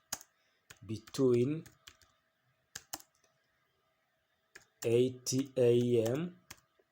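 Typing on a computer keyboard while entering data-validation text in an Excel spreadsheet, scattered close key clicks in short bursts, interleaved with a man's speech.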